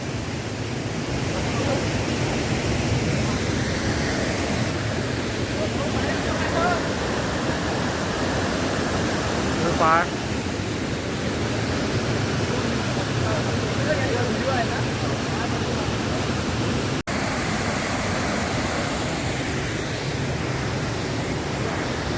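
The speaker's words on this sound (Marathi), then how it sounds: "अतिशय सुंदर धबधबा आहे आपल्या अमरावतीत" A hidden waterfall at Chikhaldhara in Amravati gives a constant, dense roar of falling water that stays loud and even throughout, with wind buffeting the microphone.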